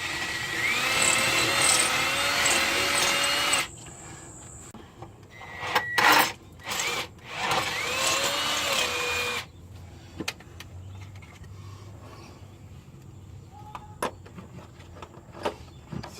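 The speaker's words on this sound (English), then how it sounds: "let's get the good drill bit" An electric drill with a good bit drilling out a hardened, heat-cycled exhaust stud on a 300ZX, loud whining bursts that start and stop several times, then quieter tool clinks and handling noises.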